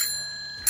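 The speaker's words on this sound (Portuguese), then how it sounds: "A campainha que o Felipe não tem na bicicleta dele" Bicycle bell ringing, a bright sustained metallic tone fading out, then a fresh strike right at the end.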